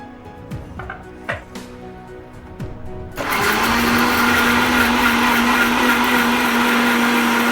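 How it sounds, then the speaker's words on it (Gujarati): A mixer grinder whirs loudly and steadily as it blends tomatoes, onion, chillies and ginger in its jar, starting abruptly after a few seconds of quiet kitchen clatter. "હવે મિક્સરના જારમાં આપણે ટામેટાં નાખ્યા છે. હવે ડુંગળી, મરચાં"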